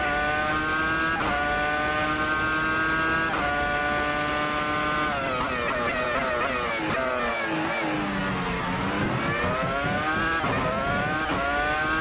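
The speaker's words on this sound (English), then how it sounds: "You can hear the traction control kick in." A Williams FW26 Formula One car in a racing video game screams through high revs, its engine note stuttering and dipping as traction control cuts in, with shifts and a deep rev drop midway, loud and continuous.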